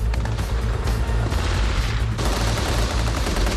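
Sustained automatic fire from a 7.62 millimeter machine gun operated by the loader of an Abrams tank, a loud, dense continuous burst with no pause, heavy low rumble throughout, with no talking.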